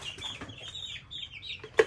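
Broiler chickens cluck and chatter softly in a poultry brooding house, a steady low murmur of many birds with one sharper cluck near the end.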